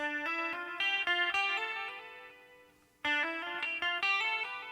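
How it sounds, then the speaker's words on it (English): Distorted electric guitar with long sustain plays smooth legato runs, each picked note flowing into hammered and pulled notes. Two bursts of phrases ring out loud and clear, separated by a brief fading pause. "it works much better when you have distortion and sustain on your guitar for sure"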